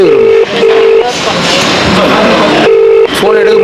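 A phone ringback tone sounds while a call is placed, with repeated steady tonal beeps separated by gaps, and busy background voices and noise filling the stretch between the tones.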